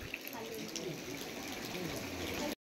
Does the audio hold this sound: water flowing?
yes